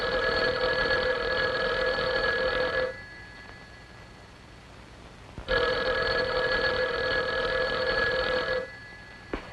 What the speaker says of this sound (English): our phone is working perfectly. Can't you hear it ring?